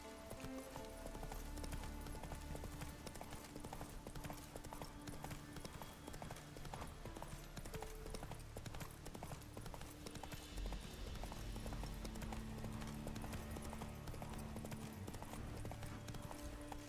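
Horse hooves clip-clop steadily in The Witcher 3 as a ridden horse moves along, with a rain shower falling in Skellige and music and game sounds playing underneath throughout.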